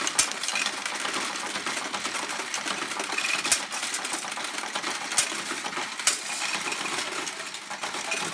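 An S&T OEM CCM-Sx coin processing module runs continuously with a dense, rattling whir and scattered metallic clinks, like coins being shuffled and sorted, steady and fairly loud throughout.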